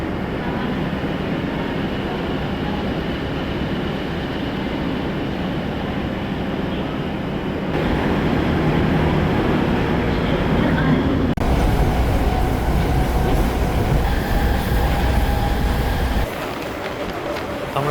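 A DEMU passenger train runs on tracks between New Cooch Behar and Siliguri, with a loud continuous rumble and rattle that grows heavier partway through and carries on without a break.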